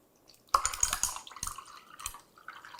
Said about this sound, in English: Pour this over ice.